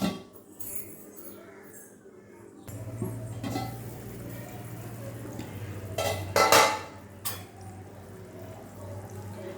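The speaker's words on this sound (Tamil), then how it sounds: "குழம்பு பாருங்கள் நல்லா கொதிச்சிருச்சு" Tamarind curry with dried black nightshade berries bubbling and simmering in a pot over a low hum, with occasional clinks and scrapes of a utensil against the pot.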